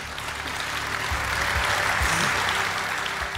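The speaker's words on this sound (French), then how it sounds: "vous pouvez applaudir tous les candidats" An audience at an agricultural trophies award ceremony applauds the candidates, a full steady wash of many hands clapping at a moderate distance, with no talk over it.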